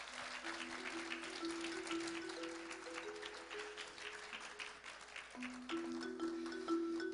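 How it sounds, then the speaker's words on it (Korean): An audience at a school closing ceremony claps warmly to welcome a Korean traditional music class, steady dense applause running throughout with sustained instrumental tones sounding faintly beneath. "국악 2반도 뜨거운 박수로 맞이해 주시기 바랍니다"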